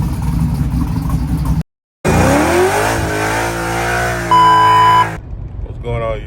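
A 1979 Malibu with a swapped-in LS V8 revs hard up close, the engine note climbing and holding high before dropping away, broken by a brief gap and followed by a short burst of talk.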